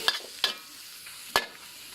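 Naem, Thai fermented pork, stir-fried in a pan for fried rice: three sharp spatula scrapes and knocks stand out over a faint, soft sizzle.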